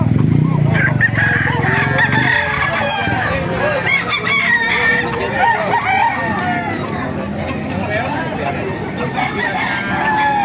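A Sweater-bloodline SBR gamecock crows loudly and close at a busy rooster market, its drawn-out call rising over clucking birds and steady crowd chatter throughout.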